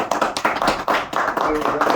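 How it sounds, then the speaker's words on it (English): Small group claps together at an informal ceremony after paperwork is signed, a steady patter of hands close by lasting a couple of seconds, with voices mixed in. "there's a round of applause for"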